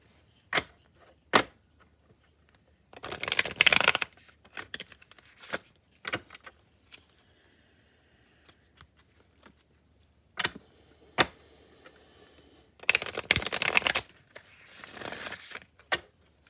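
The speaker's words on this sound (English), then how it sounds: "Let me do some hard shuffles on the table too." Tarot cards are shuffled hard against a table in several loud bursts of riffling and slapping, separated by quieter taps and pauses.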